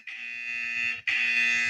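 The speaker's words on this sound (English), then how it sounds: "Yep, the buzzer's working." An electric buzzer sounds in two harsh, steady blasts, the first about a second long and the second after a brief gap, loud and close with no talk.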